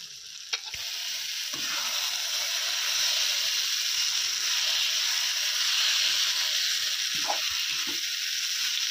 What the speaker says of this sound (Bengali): চালগুলো মশলার মধ্যে দিয়ে 2-3 মিনিট ভালোভাবে নেড়ে নেব।